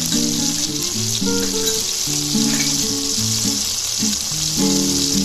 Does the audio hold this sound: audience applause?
no